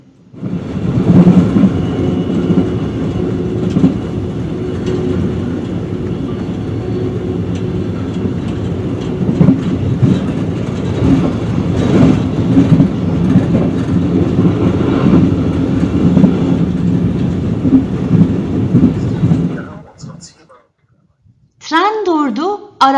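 A car-carrying train rolls along the rails on the way to an island with no road link, a steady loud rumble with faint clatter lasting nearly the whole stretch before a short drop-off and a brief tonal sound at the end.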